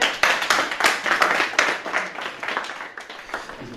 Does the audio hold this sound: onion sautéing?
no